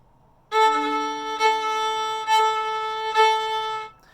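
A sustained bowed string tone with four sharp accented attacks, each note starting with a bite before settling, played alone and clearly.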